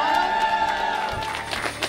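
A crowd at a ShopRite and Make-A-Wish Hudson Valley event cheers for a young wish kid, with steady, dense shouting and clapping throughout and some voices rising near the end.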